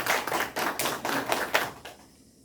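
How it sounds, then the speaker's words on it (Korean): Brief applause at a credit union mentoring program graduation ceremony, a short burst of clapping from a small group that quickly fades out. "저도 박수 한번 쳐드리겠습니다"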